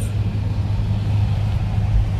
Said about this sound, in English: We're just driving around.